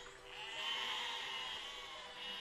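Sheep bleat in the physics building game Besiege, a drawn-out, wavering nasal cry lasting a couple of seconds at moderate volume, heard on its own without speech.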